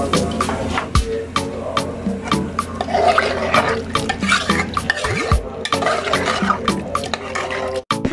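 Water is poured and stirred into a prawn curry while cooking, with sloshing liquid and repeated sharp clinks of a utensil against the pot, close and fairly loud, without speech.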